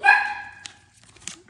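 A miniature Dachshund gives one sharp, close bark with a bright yelping tone at a delivery person, followed by a couple of faint, short yips.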